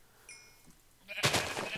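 A sheep in Minecraft lets out a short, loud bleat near the end, after a quieter stretch with faint tones and a couple of soft blips.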